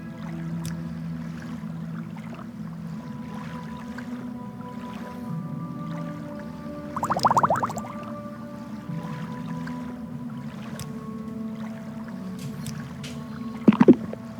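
Character in the Morrowind video game stuck in a small water pool, with steady gentle water sloshing and paddling under game ambience, broken by two brief louder splashes.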